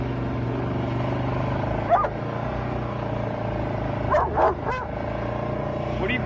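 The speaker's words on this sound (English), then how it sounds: "What are you barking at?" A dog barks a few short times, at about two seconds and again around four to four and a half seconds, moderately near, over a steady low outdoor hum; no one speaks.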